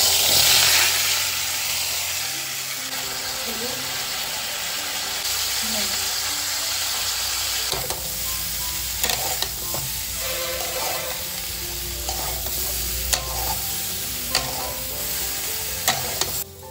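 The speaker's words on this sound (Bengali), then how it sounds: "আলু আর ডাঁটাটা একটু শ্যালো ফ্রাই করে নেব। অল্প একটু তেলে ভেজে নেব।" Potatoes and drumstick stems shallow-frying in a little oil on one side of the pan, giving a steady sizzle with occasional scraping stirs and brief clinks, continuous throughout.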